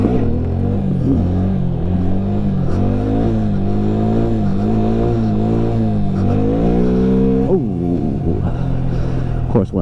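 A Honda Grom motorcycle engine heard while riding: a close, steady engine drone that repeatedly rises and falls in pitch as the throttle shifts, with a few sharper surges near the end.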